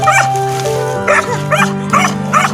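A dog gives a few loud, close barks and yips in quick succession, with a steady background hum and no speech.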